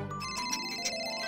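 A phone ringtone plays briefly as a short, bright electronic melody that sounds close and clear, with no one speaking over it.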